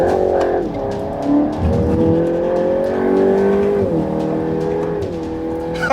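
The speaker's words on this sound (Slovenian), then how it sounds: "Zdaj pa močno zaviranje." A Volkswagen Golf GTI Edition 50 braking hard on a race track, engine note dropping through downshifts with some tire noise, loud and close throughout.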